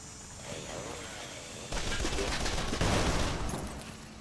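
A futuristic weapon in the video game Shoot Many Robots fires continuously in dense, rapid bursts, loud and close, with the din swelling partway through and holding steady to the end.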